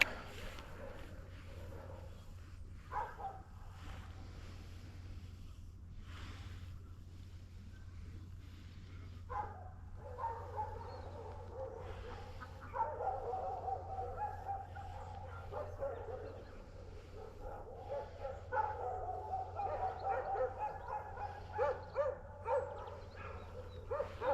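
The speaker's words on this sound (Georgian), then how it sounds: "რამდენი ძაღლი ყავს ამ ტერიტორიას? ალბათ თქვენს გესმით." Distant dogs bark and yip repeatedly, faint and scattered, over a steady low outdoor hum, at Turtle Lake in winter.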